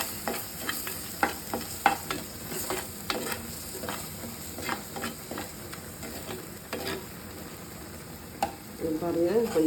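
Onions and spices are sautéed in a pan for an egg curry, giving a low, steady sizzle. A spoon scrapes and stirs in irregular taps and clinks over the sizzle, with a brief rattle near the end.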